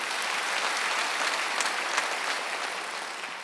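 Church congregation applauding during a Wednesday worship service, a steady wash of many clapping hands that holds for several seconds and tapers slightly at the end.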